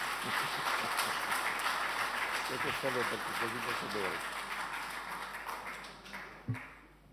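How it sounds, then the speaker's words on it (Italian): Audience applause at a lecture, a steady wash of many hands clapping at moderate distance that gradually tapers off, with a voice briefly heard partway through. "Suggerisco di tanto in tanto un applauso così bevo."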